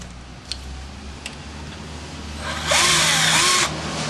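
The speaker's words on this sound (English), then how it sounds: "What makes them easy is having a power drill." A power drill whirs for about a second as it loosens bolts on a car's resonator box while a stock intake is removed, set against steady background hum and a few faint clicks.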